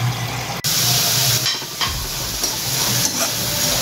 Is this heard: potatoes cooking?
yes